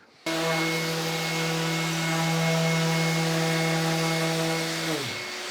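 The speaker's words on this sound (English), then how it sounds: "Okay guys, I am on to the 120 grit, and you can see we still have little to no sawdust" A Festool ETS EC 150/5 random orbital sander with 120-grit paper starts up and runs with a loud, steady electric whine, then slows down as it is switched off near the end.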